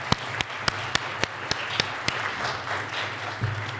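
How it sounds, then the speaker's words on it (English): An audience applauds, with distinct sharp claps standing out early, then a softer, steady patter of clapping. "Please, Christine and Marcy, stand up and take some applause, well deserved."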